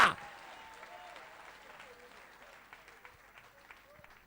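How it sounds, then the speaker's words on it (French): A church congregation applauds during a French-language sermon, the clapping starting loud after a brief shout and then settling into a steady, dense patter that runs on with some speech mixed in. "Applaudissez-moi un peu, Jéhovah."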